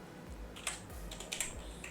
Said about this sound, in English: Let me just type, hold one on the keyboard